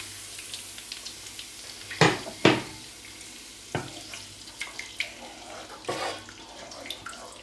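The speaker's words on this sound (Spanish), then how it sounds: "Y ahora vamos a echarle el caldo de los berberechos" Cockle broth poured into a pan with garlic for hake, a soft liquid splash and sizzle with sharp clinks and taps of the pan, quiet and close, with no talk.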